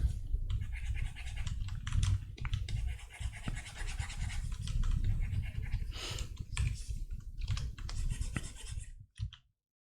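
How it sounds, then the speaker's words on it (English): Continuous close scratching of a drawing tablet pen moving across the surface during a morning painting sketch, mixed with intermittent keyboard clicks, ending abruptly in silence. "you'll be able to hear the scritch scratch of the drawing tablet in my keyboard"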